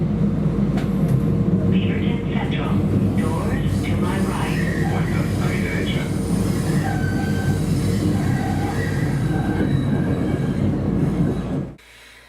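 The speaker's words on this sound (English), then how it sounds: "then it screeches very loudly" MAX light rail cars in Portland rolling over the tracks with loud, sustained wheel screeching and squealing for about eleven seconds, the rumble close and continuous before it cuts off abruptly near the end.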